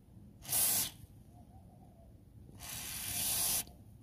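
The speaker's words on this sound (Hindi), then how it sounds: "मैं इस ऑयल स्प्रे को यहाँ पर स्प्रे कर दूंगा कुछ इस तरीके से" Two short aerosol bursts of oil spray hit the drive shaft universal joint cross of a Changan Karvaan, each a loud hiss lasting about half a second and about one second, separated by a quiet gap.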